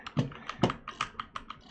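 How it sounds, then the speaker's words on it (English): Keys clack on a Razer Huntsman Mini keyboard in a quick, uneven burst of close, crisp taps with no talking. "my keyboard is the Razor Huntsman Mini"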